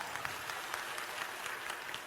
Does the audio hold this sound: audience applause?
yes